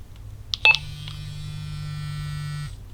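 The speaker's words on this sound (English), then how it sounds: "and now it'll vibrate just in case you don't hear it." Motorola Talkabout MU350R two-way radio vibrating, a steady low buzzing hum lasting about two seconds after a few short clicks and beeps, close and alone.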